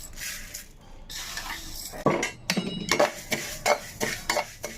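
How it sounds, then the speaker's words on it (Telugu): Cumin seeds being dry-roasted in a pan for Andhra curry spice powder, scraped and stirred with a utensil in short rattling strokes that get louder and more frequent in the second half, close by with no talking. "జీలకర్ర కూడా వేయించుకుందాం"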